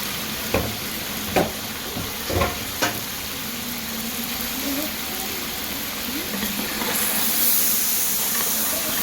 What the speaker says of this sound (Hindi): अब दोबारा से हम गोश्त को भूनेंगे 10 मिनट।